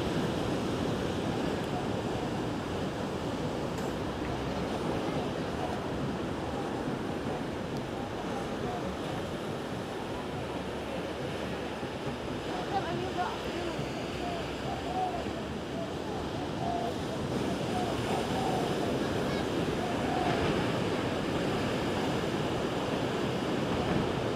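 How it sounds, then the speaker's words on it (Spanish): Steady, loud roar of sea waves breaking on a beach in Colima, Mexico, mixed with wind buffeting the microphone and no clear talk. "Miren qué bonito se ve el mar"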